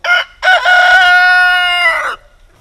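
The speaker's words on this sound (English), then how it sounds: "Sometimes you get roosters." A single loud rooster crow rings out close by, starting with a short call and rising into a long, sustained cock-a-doodle-doo that trails off into quiet.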